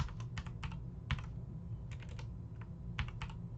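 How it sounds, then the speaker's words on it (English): Typing on a computer keyboard, a handful of quick clustered keystroke bursts with short pauses between them, close and fairly soft over a low steady background hum. "let's type something random like"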